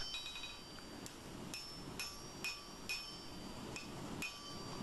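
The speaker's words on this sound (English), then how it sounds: "Using a cross peen to draw it out some more before I work on the rest of the blade." A cross peen hammer draws out a forged blade, its sharp metallic strikes ringing at a slow, uneven pace of about one or two per second, with a bright clink on each blow over low workshop rumble.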